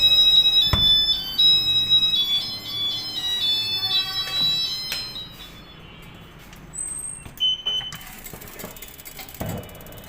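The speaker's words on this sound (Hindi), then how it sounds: "चलिए ये अलार्म बज गया जी कि पिज़्ज़ा आपका तैयार हो गया।" A kitchen oven timer signals that a pizza is ready with a series of high, clear beeps, followed by a few scattered tones and faint background noise.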